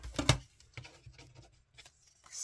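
Scissors snip shapes out of a glossy magazine page, giving a handful of short, close, crisp cuts and soft paper rustles with quiet pauses between them and no talking.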